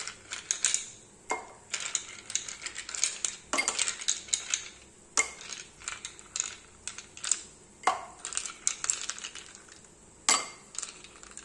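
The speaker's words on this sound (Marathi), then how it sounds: "ice cube" Ice cubes clatter and clink into a glass for a raw mango mojito in a quick, irregular series of bright, sharp knocks that sounds close and fairly quiet.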